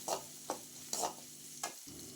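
Onion, garlic, dried chilli and curry leaves sizzling in hot oil for a home-style sambar tempering, a quiet close crackle broken by four or five sharp stirring scrapes.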